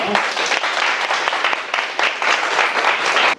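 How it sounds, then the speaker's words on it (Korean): Sustained church audience applause welcoming a guest speaker, dense and loud, many hands clapping steadily before cutting off abruptly at the end. "우리 박수로 환영해 주시기 바랍니다."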